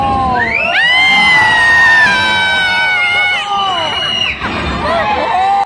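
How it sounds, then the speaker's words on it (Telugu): A crowd of train passengers shouts and whoops loudly inside a tunnel on the Vizag to Araku valley line, sustained rising and falling yells layered together, echoing close and filling the whole stretch with a brief dip near the end. "సో అప్పుడు ట్రైన్లో వాళ్ళందరూ గట్టి గట్టిగా అరుస్తూ ఎంజాయ్ చేశారనమాట"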